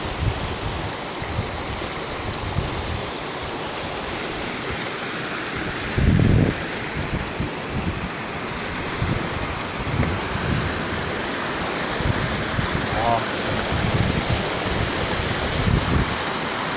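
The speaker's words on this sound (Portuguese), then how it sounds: "A água passando aí." River water of the Rio Mucugezinho in Chapada Diamantina, Bahia, rushing between rocks in a continuous broadband roar, loud and close, with a few brief splashes rising from the steady flow.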